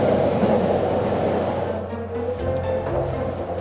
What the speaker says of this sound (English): train should be arriving right now